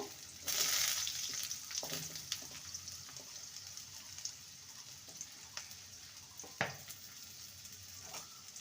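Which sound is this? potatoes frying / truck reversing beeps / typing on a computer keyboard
potatoes frying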